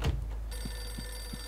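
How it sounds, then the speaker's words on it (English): A telephone rings in Eternal Darkness, faint, with short repeated trills at an even pace. "And let's answer the phone."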